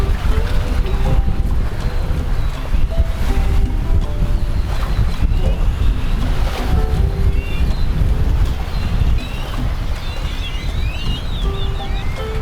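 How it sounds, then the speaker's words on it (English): Strong wind buffets the microphone in a steady, loud roar on a pier at Caye Caulker, Belize, with water sloshing and faint bird calls in the background. "rather windy on a little dodgy pier"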